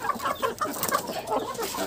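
Free-range village chickens cluck in a steady, busy stream close by while they peck at fed rice, with several birds overlapping.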